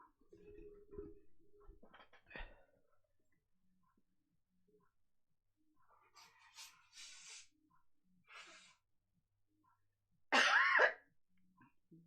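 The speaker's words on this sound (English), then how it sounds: "I'm going to sneeze." A single sharp sneeze bursts out loudly near the end, alone after quieter desk clicks, rustling and a few faint earlier noises.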